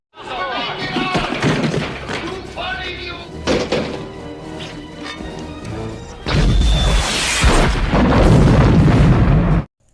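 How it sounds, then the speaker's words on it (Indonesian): Dramatic film audio with voices and music, then a huge roaring explosion that rumbles loudly for several seconds before cutting off. "menjatuhkan peledak melalui lift dan menyebabkan ledakan yang sangat besar"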